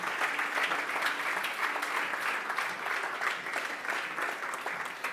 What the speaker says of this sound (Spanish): Dale un aplauso si puedes al Señor